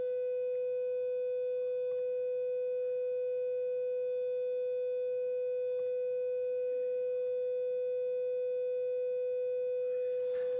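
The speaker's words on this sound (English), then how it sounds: "I'm gonna play a 500 hertz sine wave from my phone" A steady 500 hertz sine tone plays from a phone speaker, a single pure unbroken hum held evenly for about ten seconds against faint room noise.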